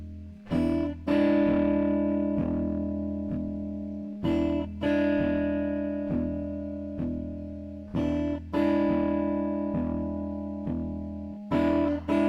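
An electric guitar plays a twelve-bar blues progression of repeated chords, strummed in bursts that return every few seconds, with no voices.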